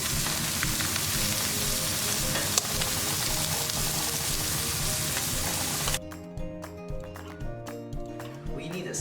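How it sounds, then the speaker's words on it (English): Blackened red snapper searing in a very hot pan gives a loud, dense sizzle that abruptly drops off partway through, leaving softer crackle and someone speaking. "This is gonna cook really fast because you have the pan at a really high heat."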